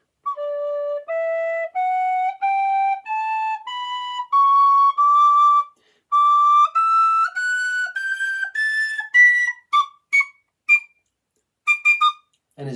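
A whistle plays a rising scale of sustained notes, one after another, then a few short high toots near the end.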